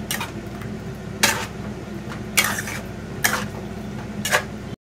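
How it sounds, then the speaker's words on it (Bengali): Chicken pieces being added by hand to a pot while cooking at home, heard as a steady low simmer broken by four or five sharp clattering clinks of pieces and utensil against the pot. "এবার এই চিকেনগুলো দিয়ে দিচ্ছি"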